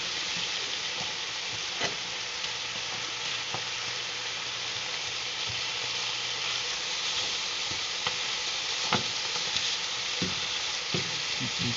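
Pork chops frying in a pan without oil, a dense, even sizzle held close throughout, broken by occasional clicks and taps from turning the meat.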